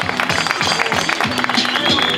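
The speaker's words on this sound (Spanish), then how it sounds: "¡Fuerte el aplauso!" Audience applause at a three-versus-three freestyle rap battle, a short burst of dense clapping and crowd noise with a loud host voice shouting over it.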